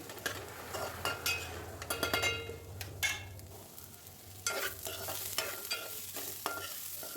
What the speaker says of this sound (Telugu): అంత మొత్తం నీట్గా కలిపేసుకోండి